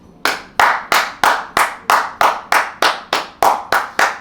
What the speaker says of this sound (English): this hand of applause today